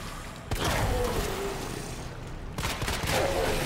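Two loud bursts of gunfire in Resident Evil 2 Remake as a monster is shot, each sharp crack followed by a ringing reverberant tail, spaced about two seconds apart.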